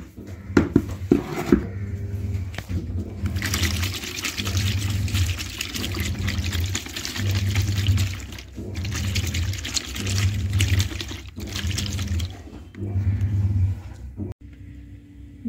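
Water is stirred and poured while washing powder dissolves in it, giving repeated bursts of sloshing and trickling close by, separated by short pauses.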